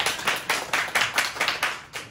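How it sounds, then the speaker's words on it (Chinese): A small lecture audience claps together at the start of a hip-hop talk, with about eight evenly spaced bursts of hand claps over two seconds and no talking. "掌声鼓励一下。"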